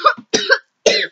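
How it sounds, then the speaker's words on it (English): Three short, sharp coughs in quick succession, close and fairly loud, with brief silences between them. "I got a cough."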